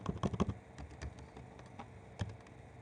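Fast bursts of typing on a computer keyboard while filling in a Google form, with a quick cluster of clacks at the start, then scattered single keystrokes and a final tap, close and fairly quiet.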